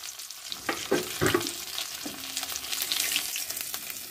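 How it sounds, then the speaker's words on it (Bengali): A fish head frying in hot oil, a close, bright, crackling sizzle that runs steadily throughout, with a few clinks and scrapes of stirring near the start. "মাথাটাকে একটু শুধু ভালো করে ভাজবো"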